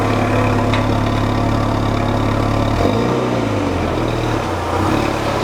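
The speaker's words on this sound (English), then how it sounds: "for stock, this car really doesn't sound bad at all. Like, it's all just original exhaust," A stock Mk3 VW GTI idles on its original exhaust with a steady low drone close by, loud and even, with a couple of slight dips and wobbles in pitch toward the end.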